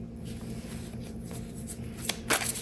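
Tarot cards pulled from a deck, soft papery slides and shuffling rustle ending in a couple of crisper card snaps, close and quiet with no talk.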